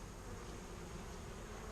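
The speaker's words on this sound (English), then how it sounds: "We got bees flying all over." Bees hum around an open beehive during a hive inspection, a faint, continuous buzzing swarm with no talk.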